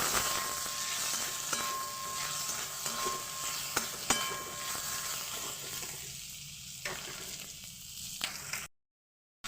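Fish head frying in hot mustard-seed-tempered oil and being stirred, with a steady close sizzle broken by spatula scrapes and clinks against the pan, cutting off abruptly near the end.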